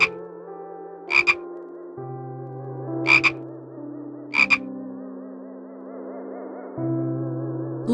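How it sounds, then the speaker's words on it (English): A frog croaks in three short, loud bursts spaced about a second apart, with a steady, sustained musical tone playing underneath throughout. "What does the frog say?"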